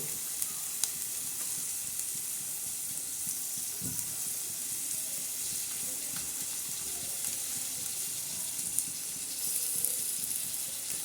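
Onion, garlic, curry leaves and tomato frying in oil for a tempering, a steady close crackling sizzle with faint stirring, no talking.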